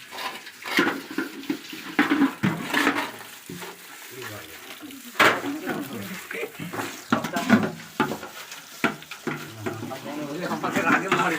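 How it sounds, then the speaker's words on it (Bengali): Tap water splashes and runs while muddy loudspeaker horns from a sound system are washed, irregular close splashing with people talking throughout. "সঙ্গে খুব কাদা লেগেছিল পুনুষগড়ে ওই জন্য ধোয়ার কাজ চলছে"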